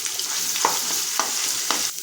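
Ginger garlic paste and coconut are stirred into a hot pan with onion, a constant frying hiss broken by three distinct spoon scrapes and knocks against the pan.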